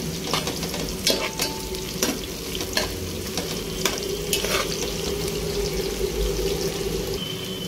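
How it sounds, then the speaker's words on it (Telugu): Prawns frying in a pan, a close, steady sizzle punctuated by spatula scrapes and clicks from stirring, with no speech over it. "ఇప్పుడు ఇవైతే మంచి కలర్ వచ్చే వరకు రొయ్యల్ని వేయించుకోవాలి"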